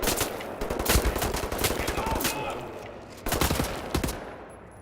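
Bursts of automatic gunfire crack out in Wolfenstein: The New Order, loud sharp volleys with short gaps between them, fading toward the end.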